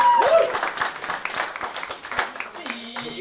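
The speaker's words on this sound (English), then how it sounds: "Let's give a big round of applause for Mr." A theatre audience at a Red Dwarf 30th anniversary show claps steadily for a guest, a moderate spread of hands with distinct claps audible, while a tone or voice briefly sounds over it.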